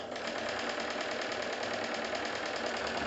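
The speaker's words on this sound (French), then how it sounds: "vous allez voir tout de suite que la machine répond formidablement, tout doucement d'abord" Steam engine of the steam launch Topaz turning over slowly, a steady close mechanical chuffing and knocking with a regular rapid beat and constant loudness, with no talk over it.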